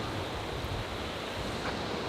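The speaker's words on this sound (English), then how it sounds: "Now it's like really windy." Steady, loud rushing wind roars across the microphone without pause, a dense blustery noise with no voices.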